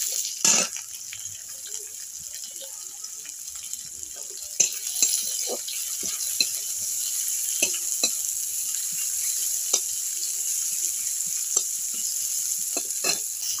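Chopped onion fries in mustard oil in a home kitchen, giving a steady bright sizzle broken by scattered sharp clicks and scrapes of stirring, with no talking.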